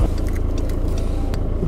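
A car rumbles steadily on a nearby road for under two seconds, a low continuous drone with no voices.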